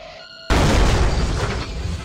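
A single loud, close shotgun blast from the tabletop game Buckshot Roulette, a sudden booming burst that cuts in after a quiet moment and rings out in a long, dense decay.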